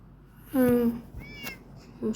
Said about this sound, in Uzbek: Men mushugim boqyapman.